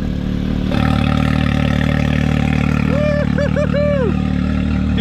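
Loud, steady rumbling idle from a 2021 Can-Am X3 Turbo RR fitted with a new Evo Shocker exhaust, starting up close and settling, with a few brief higher-pitched whistles near the end.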